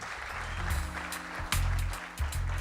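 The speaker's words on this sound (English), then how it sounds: "Clap hands for them." An audience at a workplace wellness policy launch claps, a steady wash of applause mixed with a low hum and a few sharp thumps, heard at moderate distance.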